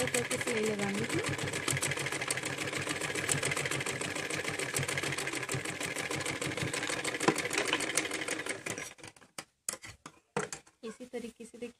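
A sewing machine stitches the back piece of a jumpsuit, its motor whirring in a steady, fast, rattling drone for most of the stretch before stopping and giving a few short, stuttering bursts, with a voice faintly present.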